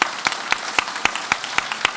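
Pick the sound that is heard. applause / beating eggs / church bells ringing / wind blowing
applause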